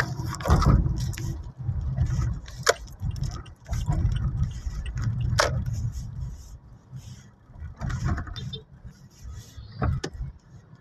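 Road traffic on the EDSA southbound lanes in Pasay City, Philippines, near the Magallanes Interchange, with a steady low rumble of engines and passing vehicles and a few sharp clicks and knocks over ten seconds.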